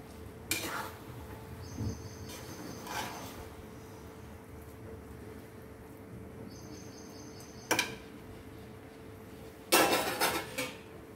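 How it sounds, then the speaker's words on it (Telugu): Chicken biryani in a pot is stirred with a metal spoon, giving a few scattered scrapes and clanks, the loudest near the end, against a quiet background with a faint insect chirp. "ఇదిగోండి ఒకసారి కలుపుదాం మనం."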